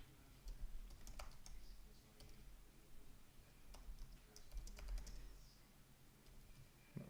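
Typing on a computer keyboard during a live stream, irregular clicky keystrokes in short bursts, close and fairly quiet over a low background hum, no speech.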